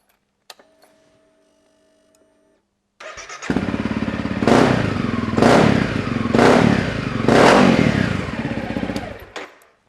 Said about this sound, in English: it sounds much more meaty, it sounds much more like one would expect an off-road bike to sound